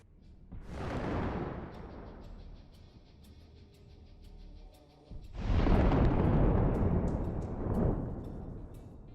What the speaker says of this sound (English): What caused such a powerful explosion?